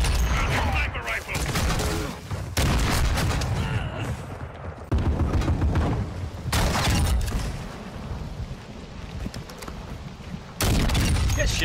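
Repeated gunfire from a sniper rifle in an online first-person shooter match, loud cracks and bursts separated by short gaps over busy game noise, with players talking throughout.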